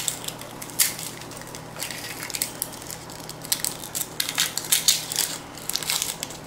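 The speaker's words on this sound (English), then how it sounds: "Just make a little notch in there, just so we can peel the rest of the skin off." Papery skin of a small onion, its ends already cut off, is peeled away by hand in a kitchen, giving close, irregular crackling and crinkling bursts with short pauses between them.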